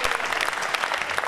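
Audience applause at a Hindi-Urdu kavi sammelan and mushaira poetry gathering, a dense steady clapping from a crowd filling the whole moment without a break.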